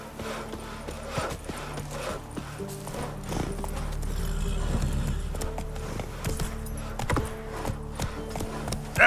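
Roach the horse gallops in The Witcher 3, a rapid rhythmic clip-clop of hooves that keeps going under steady game ambience and a soft whinny.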